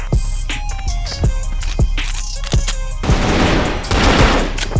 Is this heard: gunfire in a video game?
yes